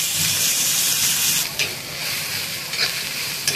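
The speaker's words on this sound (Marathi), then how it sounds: "मी आता थोडंसं तेल टाकून घेते. कांदा असा छान भाजून घेते." Onions fry in oil for a soybean masala gravy, a steady bright sizzle with occasional stirring scrapes, close and continuous.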